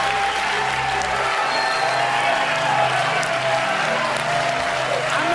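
Comedy club crowd applauding at the end of a stand-up set, dense continuous clapping with a few cheers mixed in and low music or hum underneath at the start.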